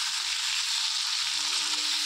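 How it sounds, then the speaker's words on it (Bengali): Chicken pieces slowly fried with ginger garlic paste in a pan, giving a steady, close sizzle with a constant hiss and no voices. "এবার মাংসটাকে আস্তে আস্তে কষাতে থাকবো"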